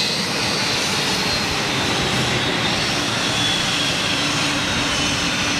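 A British Airways aircraft taxiing in on one engine at an airport: a loud, continuous jet engine roar, broad and steady with no break, close and dominant.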